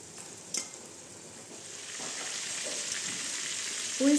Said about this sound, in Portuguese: E vou continuar aqui fritando os bifes.